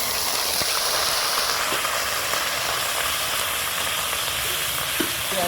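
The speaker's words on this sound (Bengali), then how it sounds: "পেঁয়াজটা এবার ভালো করে একটু ভাজা হবে, কাঁচা গন্ধটা চলে যাবে" Onion paste fries in hot oil just after cumin tempering, giving a loud, steady, close sizzle that hisses evenly throughout with no talking.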